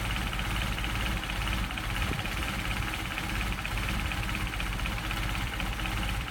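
Mercedes 190SL engine with Solex carburetors idling slowly near 400 RPM, a steady low rumble with faint irregular knocking, close and constant throughout.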